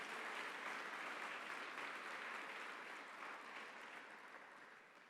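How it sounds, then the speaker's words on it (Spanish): Church congregation clapping in praise during a Spanish-language sermon, a faint but continuous spread of many hands that gradually tapers off toward the end. "denle un fuerte aplauso a ese Señor"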